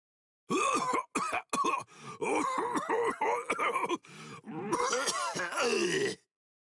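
A character in the video game Bleach Rebirth of Soul coughs and groans in a series of harsh, rough bursts, loud and close, with brief pauses between fits.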